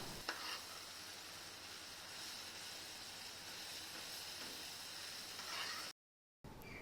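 Creamy vegetable curry being stirred and mashed with a spoon or masher in a pan, with a steady sizzle and soft scraping throughout, then a brief dropout near the end.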